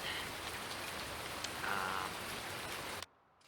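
Steady in-game rain from Farming Simulator 2019 falls as an even, dense patter for about three seconds, then cuts off abruptly to near silence.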